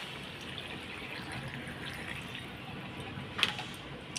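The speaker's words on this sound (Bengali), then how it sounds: "এখন আমি জল দিয়ে দেবো তো দিয়ে দিলাম জল" Water poured into a pan of potato and soybean curry makes a soft, steady wash of liquid noise, quiet and fairly distant, with one brief brighter splash near the end.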